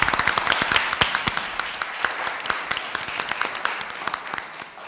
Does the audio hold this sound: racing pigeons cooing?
no